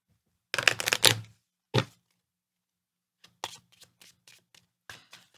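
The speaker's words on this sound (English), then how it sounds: "I'm going to shuffle our hazard deck." A deck of board game hazard cards is shuffled close by in a quiet room. First comes a long riffle burst, then a short one, and after a pause several lighter quick riffles and taps.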